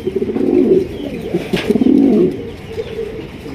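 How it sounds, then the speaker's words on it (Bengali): Large grizzle Mundian pigeons coo close by, giving loud, throaty rolling coos in two main bursts with quieter murmurs between them. "দেখতেই পাচ্ছেন বিশাল সাইজের একজন আফসান গ্রিজেল মুন্ডিয়ান কবুতর"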